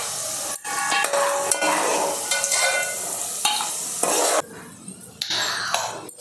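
Dry fruits frying in ghee in a pan, a continuous crackling sizzle broken by the scrape and clink of a spoon stirring against the metal, close and fairly loud.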